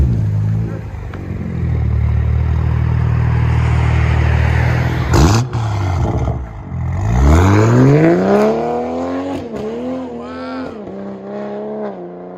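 A 2020 Toyota Supra GR with a 3.0L turbo inline-six and Tomei Expreme exhaust idles with a deep steady drone, then blips hard twice, the revs sweeping up and falling back, followed by a few sharper throttle stabs; loud and close.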